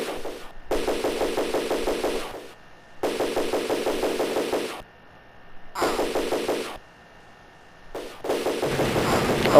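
Rapid bursts of gunfire from police in The Terminator Sega CD video game, four loud rattling volleys each lasting about two seconds, separated by short gaps of near silence.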